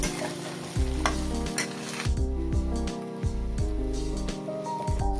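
A spatula scrapes and stirs eggs in a hot pan for egg fried rice, with steady sizzling and frying, the scraping strokes repeating every half second or so, close and loud.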